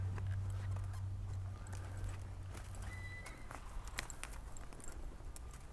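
Horse hooves moving around a horse named Ginger while a saddle cinch is tightened, scattered soft clops and shuffling steps close by over a low steady hum, with no talk.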